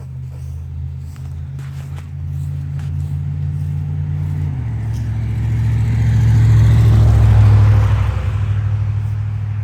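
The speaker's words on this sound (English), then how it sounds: "So I'm not sure where I left off because there's been so much traffic." Steady mid-pitched car engine rumble from road traffic near a garden bed, rising and swelling louder around the middle as a vehicle drives past, then easing slightly, with no talking.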